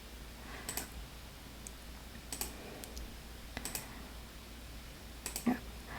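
Several scattered key presses on a computer keyboard, including a spacebar press, as a frame annotation tool is operated: a few sharp, isolated clicks spread over the clip against a quiet room background.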